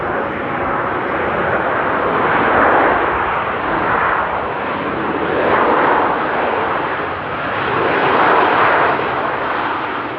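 KLM SkyTeam Boeing 737 landing at Amsterdam Airport in the rain, a loud continuous jet roar that swells and fades in slow waves as the aircraft passes, with no talk.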